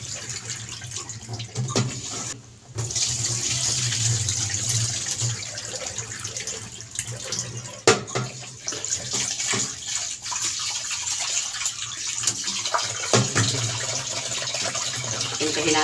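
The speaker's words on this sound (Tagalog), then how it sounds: "Ako po, pag naghuhugas ng bigas hanggang 3 beses." Tap water runs steadily into a pot while rice is washed, a continuous close splashing rush with brief shifts as the grains are stirred and handled.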